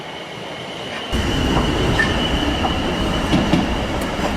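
A train rolls through a Southampton level crossing in January 2020, a loud, continuous rumble of wheels on rail with squealing and rhythmic clicks as the carriages pass close by.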